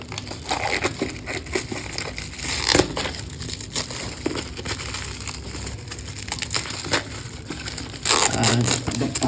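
Protective film being peeled off the packaging of a DJI Action 2 action camera, close crinkling and crackling with sharp tearing snaps, a louder rustling burst near the end, no talking.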